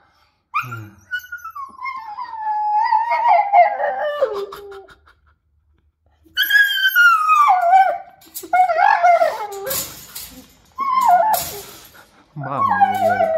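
A husky-mastiff mix dog lets out a series of long, quavering howls and whiny yelps, close by, in several bursts separated by silent gaps, with a rooster-like crowing quality to some calls.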